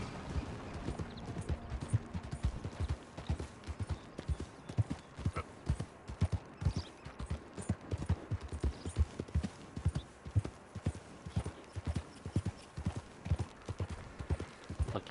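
Horse hooves clip-clop steadily in Red Dead Redemption 2, a quick even trot of sharp, close hoof strikes that carries on for the whole stretch, with a faint whinny and no talking over it.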